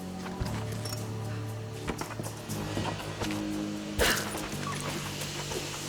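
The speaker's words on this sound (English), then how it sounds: "hear a little yippity yapping dog somewhere?" A small dog yips and barks several times at moderate distance inside the Rise of the Tomb Raider video game, short sharp calls over a steady game ambience.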